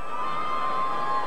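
An arena crowd at Donald Trump's inauguration cheers and applauds, a dense, steady roar filling the hall in a short continuous wash with a ringing tone on top.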